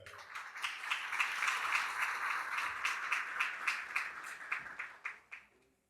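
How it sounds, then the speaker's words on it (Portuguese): A small audience gives a round of applause to welcome a retail digital-transformation speaker, distinct individual claps building into a sustained patter, then thinning and fading out at the end. "vamos recebê-lo com uma salva de palmas, Gabriel Junqueira"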